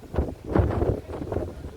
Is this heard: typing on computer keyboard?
no